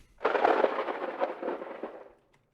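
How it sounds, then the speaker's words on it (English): A thunder crack from a Soldier 76 game sound redesign rips through the air with a loud, broad rumble that rolls on for about two seconds before fading out. "And then just some thunder as if it's sort of ripping through the air."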